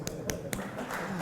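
One person claps alone three times, quick and evenly spaced, quiet and short against a faint room background.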